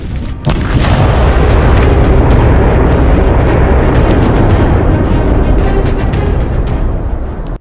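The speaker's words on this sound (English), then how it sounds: "leading to a devastating secondary explosion that engulfed the tank in flames" A tank hit by a drone strike erupts in a secondary explosion, heard as a sudden loud blast that turns into a sustained, dense roaring rumble lasting several seconds.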